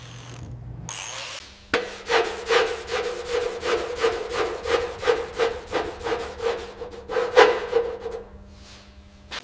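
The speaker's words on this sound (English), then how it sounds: "We have to grind this down past the corrosion until we hit the clean," Corrosion being abraded off the burnt metal frame of a Lamborghini Gallardo: a close, loud, rhythmic rasping of about twenty even back-and-forth strokes, with no talk.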